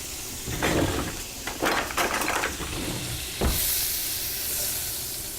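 A quarter stick of butter sizzles in a cast iron skillet at the start of home fries, a steady close hiss with a few louder crackling bursts.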